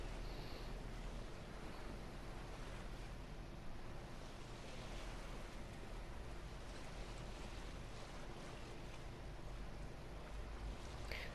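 A boat sails across the open sea in The Witcher 3, a constant wash of waves and wind rushing around the hull with no pauses and no voices.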